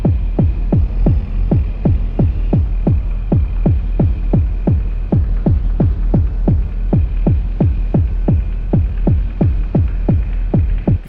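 A granular synthesizer with its grain variation control engaged puts out a loud, steady stream of rhythmic throbbing pulses, about two or three per second, each a low sweeping blip over a constant droning hum, with no voices.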